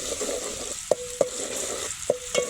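Ground masala and grated coconut frying in a hot pan, with a continuous soft sizzle broken by four distinct spatula scrapes and knocks at an uneven pace.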